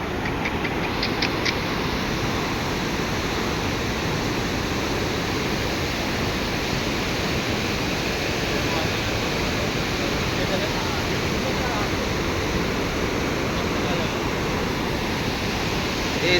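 The Ganges rushes past at Haridwar in a constant, dense roar of flowing water, close and unbroken throughout, with brief faint voices near the start.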